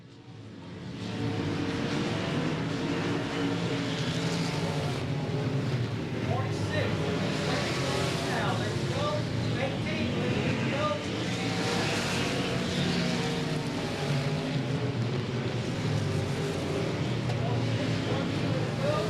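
Race cars at Golden Triangle Raceway Park accelerating hard out of a corner, a loud, continuous roar of several engines that holds steady throughout under a commentator's voice.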